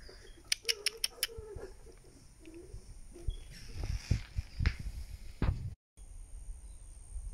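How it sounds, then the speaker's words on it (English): Several sharp, high parrot calls ring out in a quick series, followed by scattered squawks and shuffling, rustling noises close by. "And we got some parrots."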